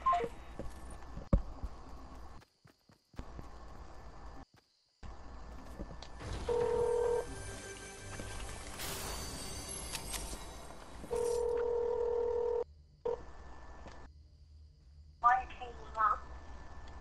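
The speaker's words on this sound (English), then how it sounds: "Why does your phone keep on hanging up?" Telephone handset tones from a Fortnite gaming session: a couple of steady beeping tones and a busy burst of dialing noise, with short dead gaps between them, fairly quiet under faint background sound.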